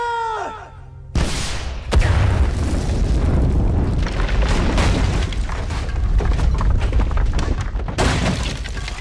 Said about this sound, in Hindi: Right launcher load. Fire fire.